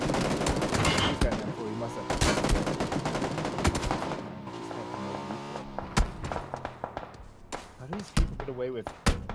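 Rapid video game gunfire rattles in bursts as automatic weapon fire, with a player talking over it and sharper isolated shots near the end.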